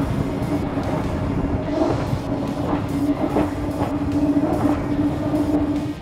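Twin engines of a Tesoro Isurus I30 motor boat run at high speed, a steady loud drone with a constant tone and wind and water rush throughout, no talk.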